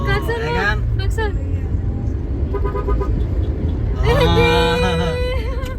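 Car horns honk in a Jakarta traffic jam during a road trip, with one loud sustained horn early on and another long blast near the end over a steady engine and road rumble. Voices talk underneath.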